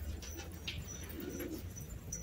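Several pigeons coo faintly in the background, soft low murmuring calls amid quiet outdoor ambience, with no voices.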